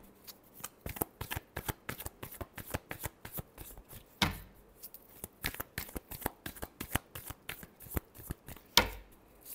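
A deck of tarot cards is shuffled by hand in rapid riffles, producing dense crisp flutters broken by a few sharper slaps as the deck is squared, close and fairly quiet.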